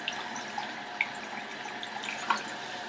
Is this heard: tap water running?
yes